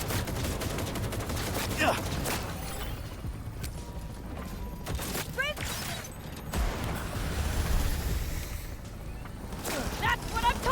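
Rapid bursts of gunfire in Cyberpunk 2077: Phantom Liberty, a heavy firefight with sharp volleys and clattering mechanical sounds, mixed with talking voices throughout.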